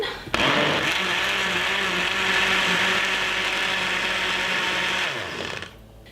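A blender whirs loudly and steadily for about five seconds, blending mango and milk into a milkshake, then cuts off and winds down.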